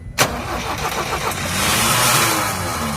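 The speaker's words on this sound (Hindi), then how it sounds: "पहले गाड़ी स्टार्ट की जा रही है।" A Tata 1109 BS4 truck's CRDI diesel engine is cranked and fires up after air is bled from the injectors, a sharp start followed by a rough mid-pitched idle that swells slightly as it settles, close and loud.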